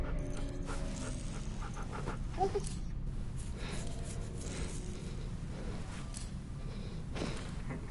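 Dog panting in The Walking Dead final season video game, a steady breathy rhythm running continuously under soft ambient game noise at moderate level.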